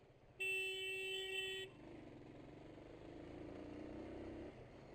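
A car horn gives one long, loud, steady honk of just over a second, standing out sharply against a low rumble of traffic that continues after it.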